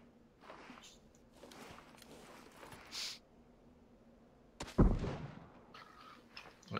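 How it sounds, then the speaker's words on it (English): Enemy gunfire in PUBG: scattered distant shots and thuds, then a loud close blast near the middle followed by a fading rumble, with quieter pops around it. "They're shooting at me."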